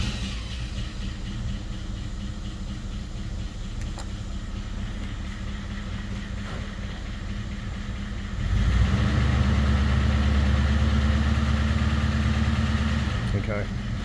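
Rolls Royce Silver Shadow with a hydraulic leak, quiet at first, then the engine catches and settles into a loud, deep, steady idle close by, with someone speaking over it.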